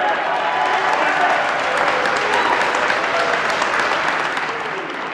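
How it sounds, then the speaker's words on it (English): A crowd at a West Point boxing event claps and cheers throughout for the night's final belt. The applause is loud and steady, some shouting mixed in, easing slightly at the end. "A round of applause."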